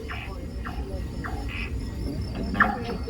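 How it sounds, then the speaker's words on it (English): Crickets chorus through a night forest at a nocturnal wildlife park, a steady close-by trilling bed broken by short repeated chirps and a brief louder call near the end, with no voices. "All set against a chorus of crickets."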